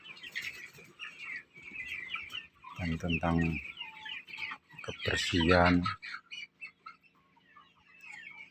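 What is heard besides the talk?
chickens in a chicken coop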